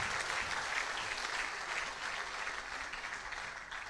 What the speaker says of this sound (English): Can we clap for Jesus Christ?